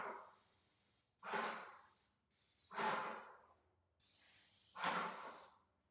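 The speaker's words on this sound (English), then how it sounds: "So have you just sprayed the back wall with eggshell?" Spray gun laying eggshell paint onto a back wall indoors, heard as four separate hissing bursts of about a second each, close and fairly loud, with quiet pauses in between and no talk over them.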